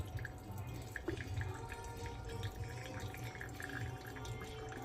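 Water poured in even circles over coffee grounds in a V60 pour-over dripper, a steady soft trickling and dripping that runs continuously at low level with faint splashes.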